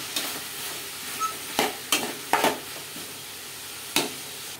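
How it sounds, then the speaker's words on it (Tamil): Onion, tomato and garlic sauté in a pan over a faint, steady sizzle, with several spoon scrapes and knocks spaced unevenly throughout. "வெங்காயம் தக்காளி பூண்டையெல்லாம் நல்லா வதங்கி வருது"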